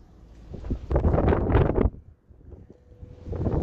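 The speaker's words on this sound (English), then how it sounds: "I hope you can hear me over the wind." Gusty wind buffeting a microphone outdoors beside a red 2013 Ford Fiesta 1.0 Zetec hatchback on a freezing day, with loud rumbling bursts that swell, drop away, then build again.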